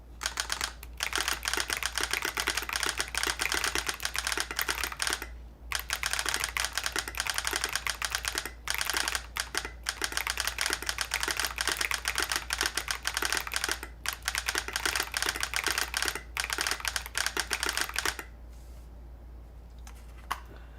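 Typing on a custom mechanical keyboard with a solenoid firing on each press, dense rapid clacking and sharp taps close up, with a few short pauses, before it drops to near quiet at the end.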